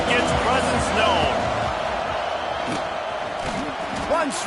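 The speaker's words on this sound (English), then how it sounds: "This crowd ready to make its presence known." Football stadium crowd at a college game roaring and cheering, a dense, loud, continuous wall of voices with scattered whoops rising above it throughout.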